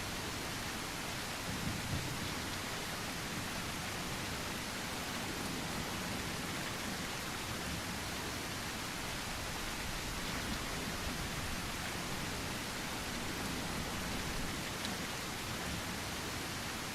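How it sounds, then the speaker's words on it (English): Rain in the video game The Isle pours as a dense, constant hiss across the whole stretch, loud and unbroken, with a low rumble beneath it and no voices. "The rain sound effects in this game are definitely a little bit much."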